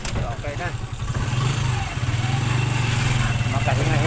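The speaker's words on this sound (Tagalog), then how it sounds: "Mapapahinga-hinga ang motor" A TMX motorcycle engine labours uphill on a rural road, a loud, close, throbbing mid-pitched drone that strains and pulses steadily, with people talking over it.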